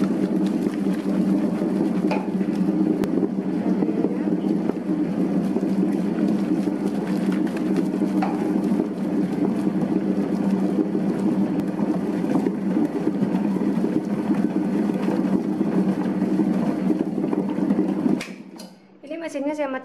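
A dough mixer machine kneading sweet chocolate bread dough, a loud, steady motor drone with a rhythmic churning underneath that stops abruptly near the end.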